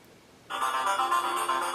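A Motorola Photon Q 4G LTE phone's speakerphone abruptly starts playing a loud, bright ringtone-like sound that continues steadily, close and alone with no talking.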